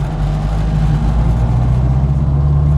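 A Classic Mini with a gear selection fault pulls along with a steady, loud low engine drone and strong rumbling hum, heard from inside the car with no voices.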